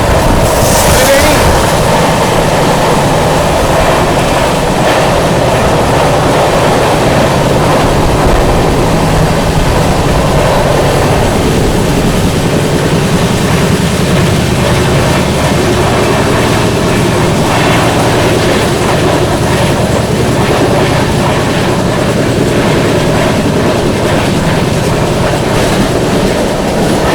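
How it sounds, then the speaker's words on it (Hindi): The Triveni Express passes close by in a loud, continuous roar with steady rumbling and the rhythmic clatter of wheels over the rails, lasting the whole stretch. "अभी ये रही दोस्तों त्रिवेणी एक्सप्रेस"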